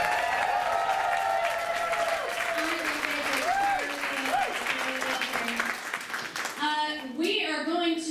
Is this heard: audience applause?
yes